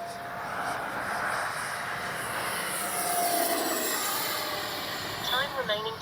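An FMS J-10 Vigorous Dragon RC jet passes overhead, a steady broadband jet whoosh that swells slightly midway, with people speaking briefly near the end.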